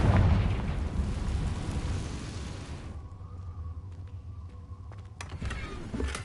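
A Confringo blasting spell goes off in Hogwarts Legacy, a loud burst that rumbles and fades over about three seconds, followed by quieter game ambience with a few sharp clicks and a second, smaller burst near the end. No one speaks.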